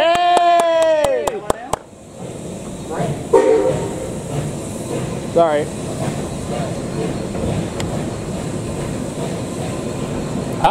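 Historic Steamranger heritage train rumbling steadily along the rails, a loud horn-like harmonic blast opening before the continuous rolling rumble and clatter, with brief speech and cheering over it.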